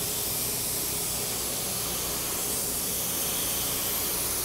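Spray gun laying a thicker second coat of primer on a car body, a steady loud continuous hiss throughout, close and uninterrupted with no speech.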